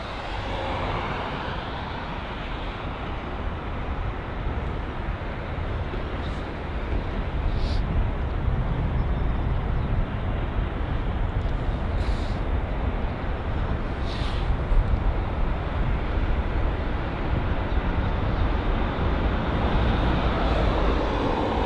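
A jet aircraft, an A320, departs London Heathrow, its steady broad engine roar holding loud and constant throughout with only slight swells.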